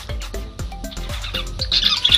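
Pet lovebirds, a parblue opaline split-ino pair kept by a breeder, give a quick run of sharp, close squawks in an uneven rhythm, with some higher chirps toward the end.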